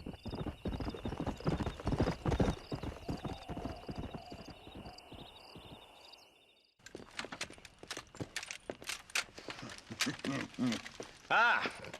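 Horse hooves clip-clop at a steady walking rhythm in Red Dead Redemption, close and clear, with a game soundtrack beneath them, a brief gap, then more hoofbeats and people talking over them.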